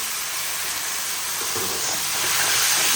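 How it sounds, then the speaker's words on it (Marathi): Noodles stir-fried fast over a high flame produce a steady, loud sizzling hiss that swells slightly toward the end, with faint clatters beneath it and no voices. "आता आपले नूडल्स टाकायचे आणि नूडल्स फटाफट पटकन सगळं फ्राय करायचे"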